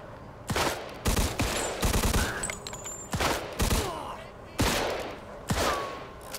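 Gunfire in Mafia II: Definitive Edition, with short loud bursts and volleys of shots repeating about every second against a quieter game background.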